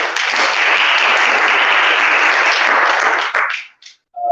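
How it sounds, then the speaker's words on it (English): A seated audience at a self-sufficiency forum applauds a newly welcomed panelist with steady, dense clapping that holds loud for several seconds, then thins out to a few last claps before a brief voice at the end. "So we can clap for him."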